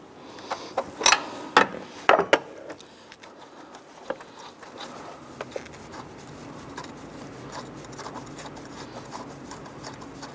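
A pulley tool being worked off the water pump of a 1994-2004 Ford Mustang 3.8L V6, a few sharp metallic clicks and knocks early on, then quieter faint rubbing and handling sounds, with no talk.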